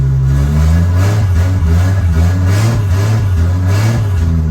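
A Nissan S14 drift car with a swapped 2JZ engine revs repeatedly up and down, a loud deep droning exhaust rising and falling close by without pause.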